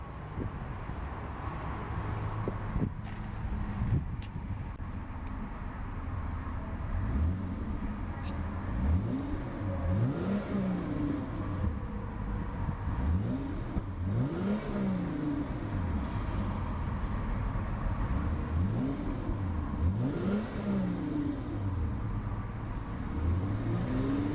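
A 2014 Hyundai Genesis Coupe's 3.8-liter V6 is revved repeatedly from idle, about eight rising-and-falling blips in a steady rhythm, loud and close with a harsh exhaust note.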